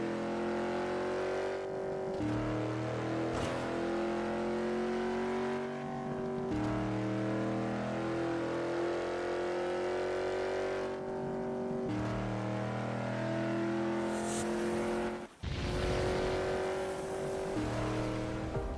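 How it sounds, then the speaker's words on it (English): Racing cars in the mobile game GT Racing 2 roar steadily, engine pitch climbing through gears with repeated shifts and revs, loud and continuous for the whole stretch with no talk. "GT Racing 2, The Real Car EXP is a racing game developed by the makers of Asphalt."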